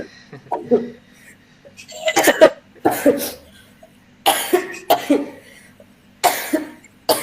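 A woman coughs in several separate harsh bursts, close by, with quiet murmuring and a brief chuckle between them.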